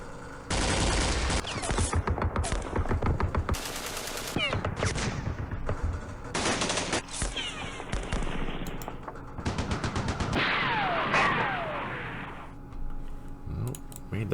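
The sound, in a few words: heavy weapons firing in a video game (Campaign Series Middle East)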